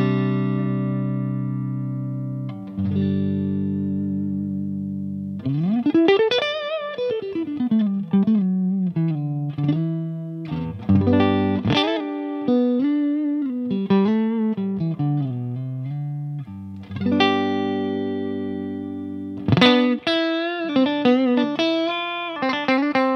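An electric guitar through a BluGuitar Amp 1 Mercury Edition with reverb at maximum plays bent, sliding notes drenched in heavy reverb, each phrase ringing out and trailing into a long wash of echo, with no talking.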